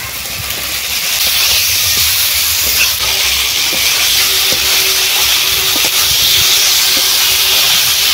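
Fried Gangtara fish hits hot spiced masala with a loud, steady sizzling hiss that fills the whole stretch, close and continuous with faint clinks of a utensil.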